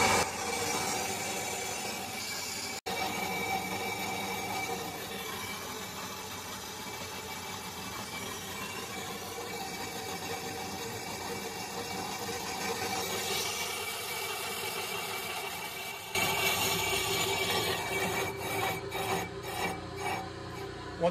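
A brake lathe cuts a brake rotor with a continuous, close mechanical grinding drone and a steady rasping hum, then shifts to a louder, harsher cutting texture with rapid rhythmic chatter near the end.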